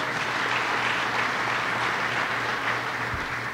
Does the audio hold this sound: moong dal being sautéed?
no